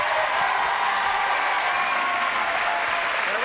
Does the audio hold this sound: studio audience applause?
yes